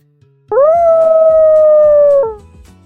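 A wolf gives a single sustained, loud, close howl, steady in pitch before dropping off at the end, heard alone.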